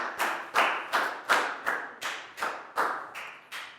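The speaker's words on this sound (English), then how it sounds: "Big round of applause." A Year 4 English class claps in a steady, evenly spaced rhythm, about ten sharp claps in four seconds, close and loud with no talk over them.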